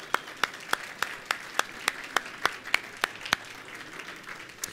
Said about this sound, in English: So a round of applause for all of our sponsors today.